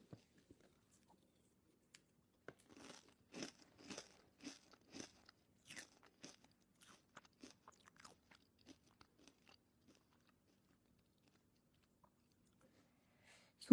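Crisp anchovy sambal (sambal garing bilis) crackles between the teeth in a run of sharp, close crunches, bunched at first and then thinning out into scattered bites in an otherwise quiet room.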